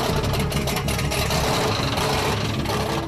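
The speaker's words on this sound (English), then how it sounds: "The engine purrs like a finely tuned machine, but he pushes the motor a little too hard" The engine of a Jeep on a test run over a riverbed roars and rattles at a steady, heavy pace, a dense continuous drone close to the listener.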